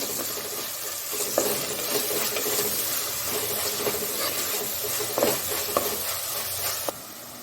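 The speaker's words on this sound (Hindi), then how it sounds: "एक प्याज, बड़ी वाली प्याज है, इसको मैं अच्छे से बारीक काट के लियो। इसको भी अच्छे से भुनना है।" A large, finely chopped onion fries in oil with a steady loud sizzle, while occasional spoon stirs and scrapes come through close up.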